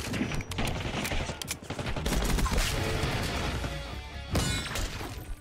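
Gunfire in the Black Ops 6 video game: dense, continuous bursts of shots mixed with shattering and crashing impacts, loud and close throughout.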